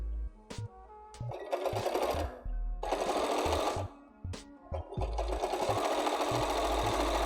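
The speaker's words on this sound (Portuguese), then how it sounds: "vai começar a costurar tudo de novo" A sewing machine stitches binding onto a quilt in several close bursts of rapid mechanical whirring, each run stopping briefly before starting again, with no talk.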